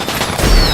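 Fireworks from a level-up animation in the dungeon-building strategy game War for the Overworld, a brief loud crackling burst of bangs filling the short moment, dense and close, with no talking.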